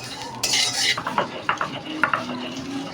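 Nigella seeds fry with sesame in a pan after onion, chilli and garlic are browned, giving a soft sizzle under brisk metal spoon scrapes and clinks against the pan.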